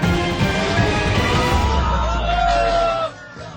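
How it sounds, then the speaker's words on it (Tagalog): Passengers aboard a jeepney on Marcos Highway in Antipolo at night shout and whoop together over road and engine noise, the loud crowd of voices cutting off abruptly near the end. "Rinig ang hiyawan ng mga pasahero ng patok jeepney ito habang nasa bahagi ng Marcos Highway sa Antipolo City"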